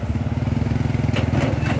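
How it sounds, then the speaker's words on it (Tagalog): Motorcycle passing along a damaged rural road near a backhoe dig site, a short pulsing engine putter close by, with a brief rattle toward the end. "kasi may dumadaan na nakamotor"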